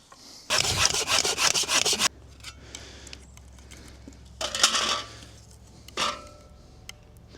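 A handsaw cuts a piece of very dry wood for a bow drill spindle in a quick run of rasping back-and-forth strokes, then falls quiet before two shorter scraping bursts follow, close by.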